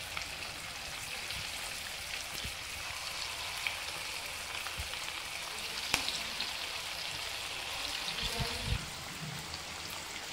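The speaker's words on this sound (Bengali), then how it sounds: "তো এবার আমি এই পকোড়াগুলো ভেজে নিচ্ছি গ্যাসের ফ্লেমটা আস্তে রেখে" Chicken pakoras deep-frying in oil over a low gas flame, giving a steady, dense crackling sizzle throughout with a few louder pops and bubbling bursts near the end.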